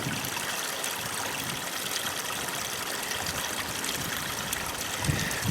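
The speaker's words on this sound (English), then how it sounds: "All this rain we've had lately has really made this little river run." A small homestead river running high after days of heavy rain, its steady broadband rush and gurgle holding an even level throughout, close by and without voices.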